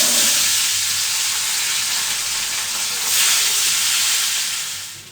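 Fish sizzles steadily as it fries in a pan in a home kitchen, a loud continuous crackling hiss that rises slightly near the end.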